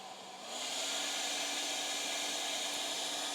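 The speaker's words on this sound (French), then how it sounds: "je suis en pleine puissance avec mon sèche-cheveux" Hair dryer blowing at full power from a portable battery power station, a steady loud whoosh that swells in over the first half second and then holds constant, with no talking.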